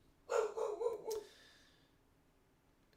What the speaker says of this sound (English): So dog's going to be barking a little bit.